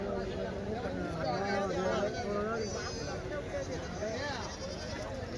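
Goats bleat repeatedly among a busy crowd at the weekly Kadiri goat market, their wavering cries rising over nearby chatter and bargaining voices.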